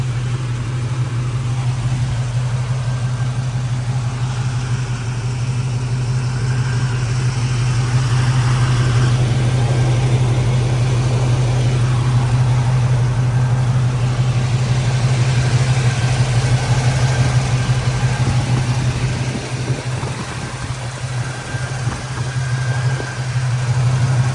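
A 1968 Chevy Camaro engine idles steadily with a smooth, even low hum and rumble, alone and without talk throughout.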